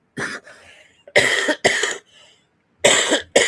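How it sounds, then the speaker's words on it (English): Several harsh coughs close to the mic, a short burst, a pause, two louder coughs in a row, then another pair after a gap. "as you can see, I still have the cough"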